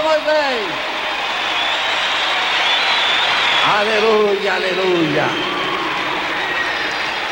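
A church congregation applauds Pastor Fred Moisés of Ministério Voz da Verdade with steady, sustained clapping and crowd noise, while a voice calls out over it.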